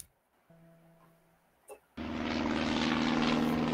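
A World War I-era aircraft engine suddenly roars in, loud and steady, after a quieter stretch with a faint hum and a brief thump.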